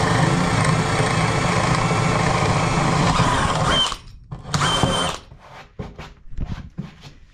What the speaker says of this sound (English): we're going to drill this for a 3/8 bolt